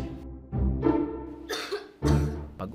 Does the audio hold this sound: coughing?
yes